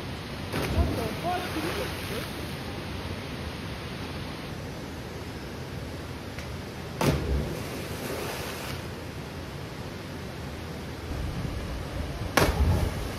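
Steady, dense rush of a waterfall fills the whole stretch close by, with a few louder bursts of splashing or bumps against the microphone. Wind buffeting is mixed in.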